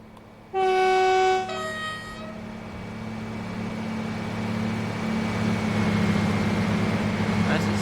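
A ScotRail Class 158 diesel train with a Cummins engine in a train simulator sounds a loud two-tone horn blast, then its engine drones and builds steadily as it pulls away, with a voice talking over it.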